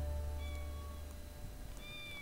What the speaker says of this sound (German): Deswegen miauen die jetzt.